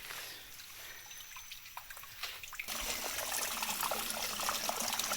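A small stream of water trickles steadily outdoors, soft at first and then a fuller, louder burbling flow for the second half.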